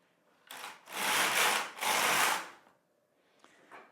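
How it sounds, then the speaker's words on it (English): Carriage of a Singer Solo hand knitting machine sliding across the needle bed in two long rasping sweeps, close and fairly loud, followed by a few quieter clicks. "And I take my carriage across."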